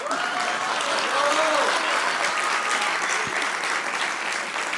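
Steady, dense applause from an audience at a book presentation, loud and continuous from start to finish with a few scattered voices mixed in.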